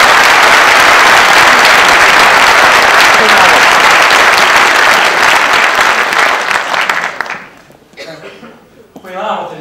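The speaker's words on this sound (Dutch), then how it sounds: "Dus graag een heel warm applaus voor jou nogmaals." A lecture audience in Oss gives a speaker warm applause, loud continuous clapping that fades out after about seven seconds, followed by the speaker's voice.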